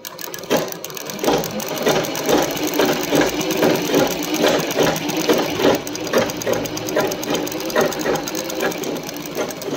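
A child runs a sewing machine, giving a steady, close, rapid mechanical clatter and whir that continues unbroken for the whole stretch with no talk.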